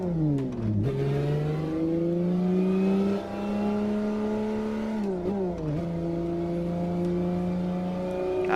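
Ferrari F50 in Assetto Corsa at Imola, its engine revving loud and close, pitch climbing and holding with brief dips at shifts, a steady mechanical whine running alone throughout.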